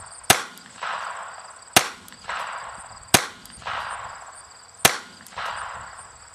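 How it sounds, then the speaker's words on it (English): A rifle fires a group of four sharp shots at a target from a sighting rest, spaced about one and a half seconds apart, each a loud crack with a short decaying tail. "Take careful aim at the center of your target and fire a careful 3 or 5 shot group."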